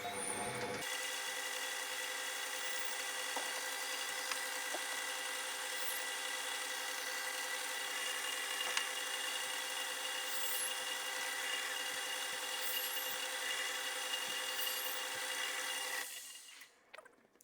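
Steady, high-pitched whine of a drill boring a hole for an oil feed on a 1920s Raleigh motorcycle, running continuously with faint ticks and knocks, then winding down at the end.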